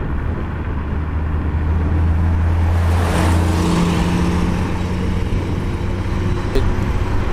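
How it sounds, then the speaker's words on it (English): A car approaching and passing close behind a rider on an MX60 motorcycle on a late-summer country road, a steady low engine drone that swells in the middle and then fades over the continuous wind and road noise. "is that a car behind me?"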